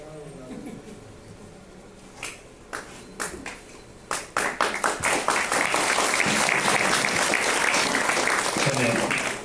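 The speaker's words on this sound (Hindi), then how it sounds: "इसीलिए ताली आप लोगों ने बजाई" An audience at a motivational stage talk breaks into applause: scattered claps build quickly into sustained, loud, dense clapping that fills the room.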